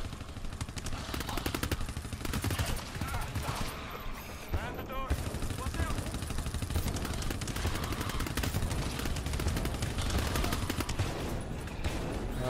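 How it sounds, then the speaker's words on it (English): Rapid automatic gunfire from a deployed sentry gun in the co-op horror shooter GTFO, sustained and loud throughout with dense mechanical clatter, while a voice speaks over it. "Go, sentry gun, go!"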